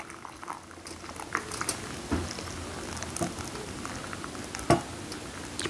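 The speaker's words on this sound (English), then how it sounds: "This is the hot water, it's ready. Put the hot water here." Hot water poured into a bowl to make a face steam, giving a steady close hiss and splash of liquid with a few sharper knocks and clinks along the way.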